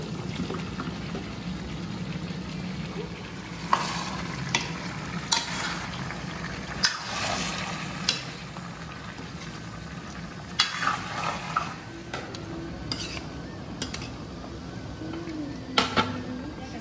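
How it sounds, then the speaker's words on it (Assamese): Potatoes and pumpkin tipped into a frying Assamese-style spicy duck curry with ash gourd give a steady sizzle, broken by scraping stirs, clacks and a few sharper knocks of the utensil against the pan. "এতিয়া মই আলু আৰু কোমোৰাখিনি দিম।"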